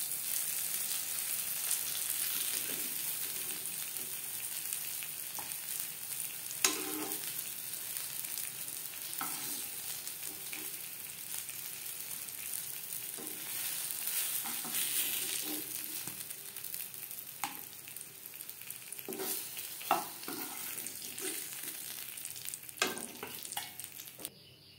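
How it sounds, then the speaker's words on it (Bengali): Eggplant slices fry in hot oil with a continuous sizzle, broken by regular scraping and clattering sounds as the slices are turned and moved in the pan. "প্রথম ব্যাচের বেগুন ভেজে নেওয়া হয়ে গেছে, এবার আমি পরের ব্যাচের বেগুন ভেজে নেব।"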